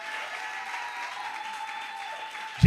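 Church congregation applauding to acclaim the Lord, a steady wash of clapping from many hands that holds evenly throughout and ends in a brief louder thump.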